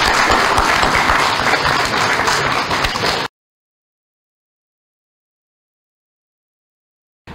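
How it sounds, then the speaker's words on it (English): Audience applause fills the first three seconds, a dense sustained clapping from a crowd, then cuts abruptly to silence. "Let's give them a round of applause."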